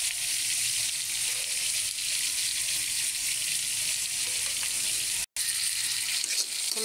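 Spices for a snakehead fish curry sauté in a pan with a loud, continuous close sizzle and faint scraping of stirring. There is no talk, and a brief dropout comes near the end.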